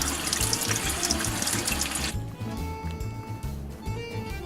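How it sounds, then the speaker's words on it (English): Mushrooms are washed under a running kitchen tap, with a steady close stream of water splashing into the sink and shifting as the flow is handled. "We wash and cut the mushrooms."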